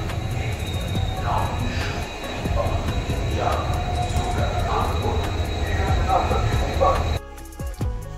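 The Jammu Tawi Express pulling into Lucknow station gives a loud, steady rumble of rolling wheels and carriages, with voices faintly audible inside, before the noise drops away sharply near the end.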